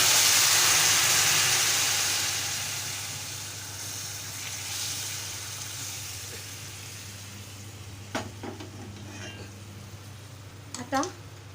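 Water hits a hot pan of roasted semolina with a loud sizzling hiss that gradually fades, followed by a few light clinks.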